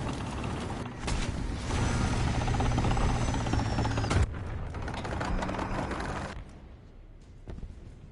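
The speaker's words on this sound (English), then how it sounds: "Hubschrauber, 1 Uhr." In a War Thunder battle, a helicopter's steady rotor and engine roar fills the scene, loud and continuous with mechanical rattling over it, then it cuts off abruptly and a quieter hum trails on, with no voices.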